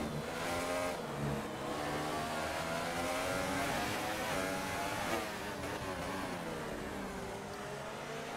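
Race cars in an F1 video game on PS4 accelerate together at the United States Grand Prix, several engines revving and rising in pitch as the field pulls away, loud and continuous.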